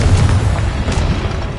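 A spell-effect explosion booms loudly with a deep, rumbling burst that lingers and fades over a second and a half.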